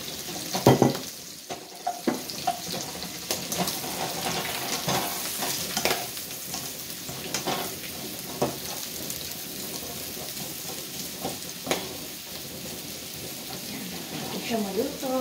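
Mushrooms frying and being stirred in leftover pork chop drippings with garlic in a pan, a steady close sizzle with repeated scraping stir strokes throughout.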